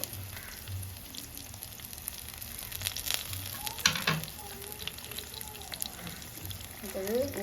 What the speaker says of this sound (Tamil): முழுசாய் வந்து மிளகாயும் போடுவோம். அது வந்து கருவேப்பிலையும் போடுவோம்.